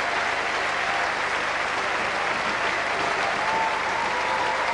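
Football crowd at an ex-Spurs tribute match cheering and applauding after a goal, a dense, steady roar of clapping and shouting that holds at full volume throughout.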